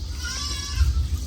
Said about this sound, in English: I wonder why the goats are screaming so much.